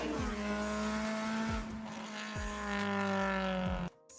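A naturally aspirated Honda Civic Type R engine with manual gearbox and front-wheel drive revs hard and loud toward high RPM, a steady tonal howl broken by several quick dips like gear changes, ending in an abrupt cut.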